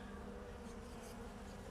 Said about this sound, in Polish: Pszczoły, jak widzimy, latają